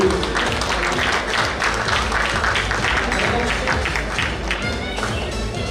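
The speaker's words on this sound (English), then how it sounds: "Big round of applause again." Banquet audience at an awards night giving a round of applause: dense, lively clapping from a crowd with tapping and some voices mixed in, steady and fairly loud for nearly six seconds.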